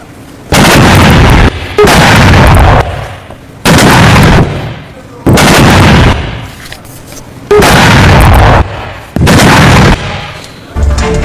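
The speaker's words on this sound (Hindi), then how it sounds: "21 तोपों की सलामी दी गई" Cannon fire a 21-gun salute at a Republic Day ceremony in India. Five or six loud, heavy booms follow one another at roughly two-second intervals, each rolling out into a brief echo before the next shot.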